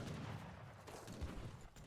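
Cannon fire in an Age of Empires III match, two cannons firing into an army: a dense, continuous rumble of booming shots and battle noise, fairly quiet and steady throughout, with no voices.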